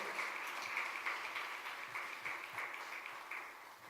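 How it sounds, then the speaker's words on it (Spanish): Congregation at an evangelical church service clapping loudly, giving an applause to the Lord; a steady wash of many hands clapping continues at even level throughout, with no talk over it. "¿Cuánto pueden dar un aplauso fuerte al Señor?"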